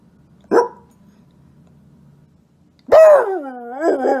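A comedian imitates dogs barking at night: one short sharp vocal bark, a pause, then a longer drawn-out howling bark-like yelp, close and loud with no other sound.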